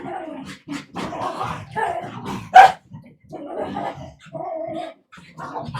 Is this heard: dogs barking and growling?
yes